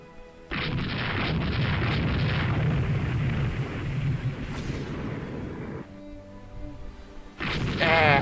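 Torpedo spread explosions in the naval strategy game Rule the Waves II: a loud sustained rumbling boom roars for several seconds, drops to a lower crackle, then swells again at the end, with no talking.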